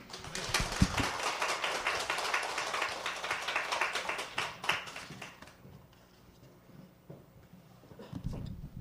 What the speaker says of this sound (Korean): 뜨겁게 한번 박수 한번 해주셔서 감사합니다.